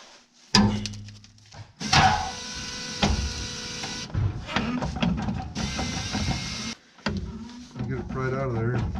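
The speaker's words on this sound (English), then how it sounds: "here's a screwdriver you can put behind there and pry it out" A screwdriver pries a U-joint out on a 2000 GMC truck, giving metallic clunks and scraping knocks in bursts, close by, with people talking over the work.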